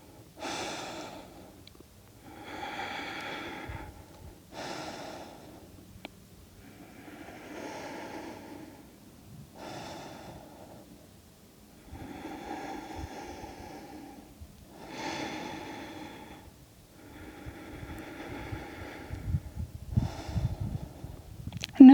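Slow, deliberate yoga breaths during a cool-down: about nine long inhale-exhale cycles, each a soft airy rush through the nose, close and steady, with no talking.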